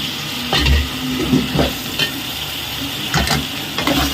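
Brinjal and drumstick pieces sizzle steadily in hot oil while a spoon stirs and scrapes the pan, giving rhythmic clattering bursts over the constant frying hiss, close by with no talking.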